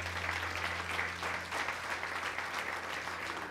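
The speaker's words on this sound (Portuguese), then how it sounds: "Dá um aplauso a Jesucristo." Church congregation applauding during a prophetic Wednesday service, a sustained wash of clapping at moderate level over a low steady hum.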